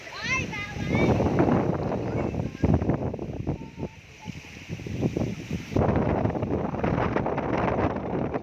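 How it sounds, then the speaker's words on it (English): Strong wind at Baloy Beach in Olongapo City, Philippines, buffeting the microphone in a loud, steady roar with gusty swells, while a person talks over it for much of the stretch. "The wind here is treacherous. You can probably hear it."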